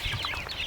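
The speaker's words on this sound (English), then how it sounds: "a group of chickens by the house" A group of chickens by a farmhouse clucks softly in a brief, steady burst of mixed, overlapping calls, moderately close with some low rumble beneath.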